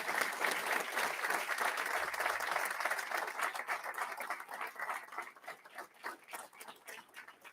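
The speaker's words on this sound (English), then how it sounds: "Big round of applause." An audience at a school board of education meeting applauds warmly in a dense patter of many hands that gradually thins and fades.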